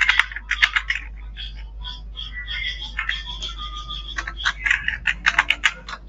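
Computer keyboard typing at a Windows command prompt, a run of quick clustered keystrokes with short pauses, close and fairly clear over a low steady hum.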